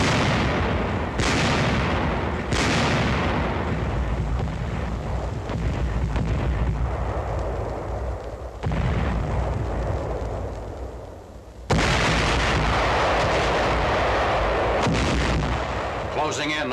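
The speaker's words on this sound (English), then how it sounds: "The ultimatum is rejected and hundreds of guns open fire on the encircled city." Heavy artillery bombardment of Aachen in 1944, with hundreds of guns firing: dense, continuous booms and blasts overlap into a loud rumbling barrage that swells and dips over the whole stretch.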